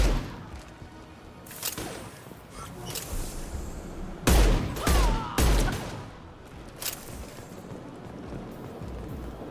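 Gunfire from the video game Mass Effect 2 arrives in several sharp bursts and booming shots between quieter stretches of game ambience, moderately loud.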